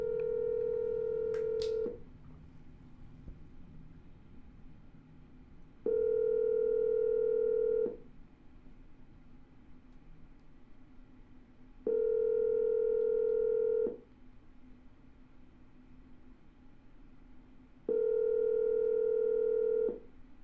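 A telephone line gives out a repeating ringback pattern, a steady tone of about two seconds every six seconds over a faint hiss, four times in all, on an outgoing call to a property seller.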